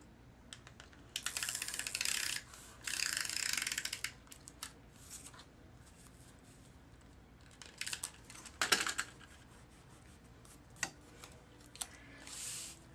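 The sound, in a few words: snail tape adhesive runner dispensing adhesive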